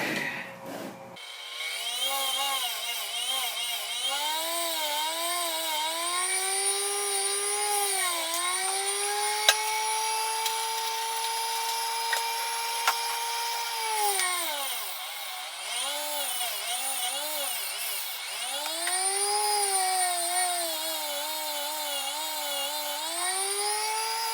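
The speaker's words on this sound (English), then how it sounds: "I'm gonna put the grinder into this clear box because I don't want all the scrap to fly everywhere" A small electric grinder runs continuously inside a clear plastic box while shaping a Tamiya Mini 4WD tire. It holds a loud, steady high whine whose pitch dips and rises as it bites into the rubber, with brief drops where the load changes.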